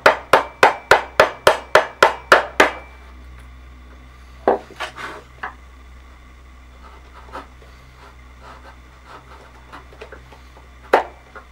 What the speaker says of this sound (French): nettoyer au ciseau à bois et ce sera parfait